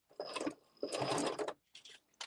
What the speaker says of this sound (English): we're going to drop the needle, lift the foot, pivot and turn, and we're going to sew out towards the bottom